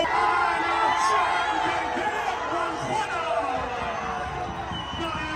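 A stadium crowd roars and cheers at the Kurdistan World Cup final, a continuous distant wash of voices under a commentator speaking over it.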